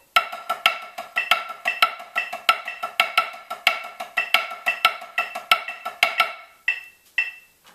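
A snare drum plays steady triplet strokes with shifting accents, crisp and close, in an even stream of hits that thins out to a few last strokes at the end, with no talking.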